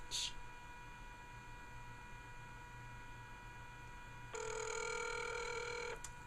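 A telephone rings over a speakerphone call: a brief electronic ring at the start, then after a pause of steady line hum a longer bright ringing tone lasts about two seconds before cutting off, faint and thin.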